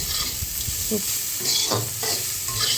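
Bitter gourd frying in a pan while being stirred, a continuous hiss of oil broken by several distinct scraping and clinking strokes of the spatula, close and steady over a few seconds.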